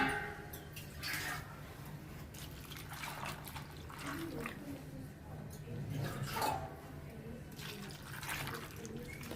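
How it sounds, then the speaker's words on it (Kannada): Water is poured from a glass into a cooking pot of washed toor dal for a cucumber huli, a soft, close trickling splash against quiet kitchen background. "ಒಂದು 2 ಗ್ಲಾಸ್ ಆಗುವಷ್ಟು ನೀರು ಹಾಕ್ಕೋತೀನಿ."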